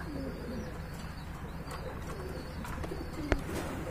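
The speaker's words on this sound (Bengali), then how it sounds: "এখানে দেখতে পাচ্ছেন হোয়াইট কালারের বিগ সাইজের দুইটা কবুতর" White pigeons, a carrier homer and a Muraslla, coo softly in a loft, their low murmuring steady and close, with a sharp click or tap near the end.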